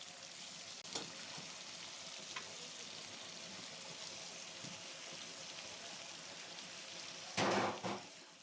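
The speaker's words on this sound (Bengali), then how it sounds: "তো এবার আমি পরিপূর্ণভাবে ভেজে নেব আলু মাছ সহ।" Potatoes and fish frying together in a pan give a steady, moderately quiet sizzle that runs throughout, with a few soft stirring knocks and one louder burst of clatter near the end.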